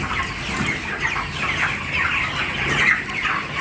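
A flock of chickens in a three-storey poultry house clucks continuously, many birds overlapping at close range with no clear pauses.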